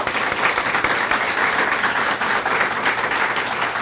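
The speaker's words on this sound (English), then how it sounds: "Can we have a round of applause?" An audience at an evening talk on gratitude and mindfulness claps in a dense, sustained round of applause that fills the whole moment at a steady level.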